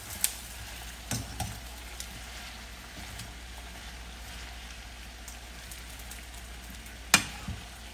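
Peppers fry in oil alongside yellowtail snapper, a steady soft sizzle like light rain, with a couple of sharp clacks and knocks as the pan's contents are mixed.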